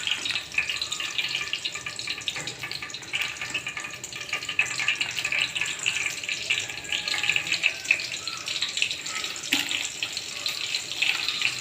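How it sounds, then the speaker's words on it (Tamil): Mustard seeds spluttering in hot oil in a pan, a dense steady crackling hiss that runs through the whole stretch, close and fairly loud, with no voices over it. "கடுகு பொட்டியாச்சு."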